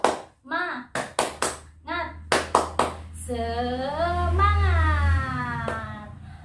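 A classroom of fourth-grade children performs the tepuk semangat rhythmic clapping chant, sharp bursts of claps in a patterned beat alternating with shouted chanting voices, followed by a child's drawn-out sung call near the end.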